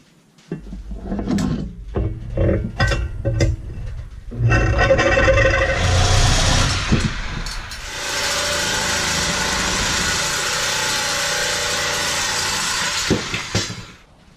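Rebar cut into 30-inch sections for table legs: a few clanks and knocks, then a loud, sustained grinding whine that runs steadily for several seconds before stopping, close by and with no speech.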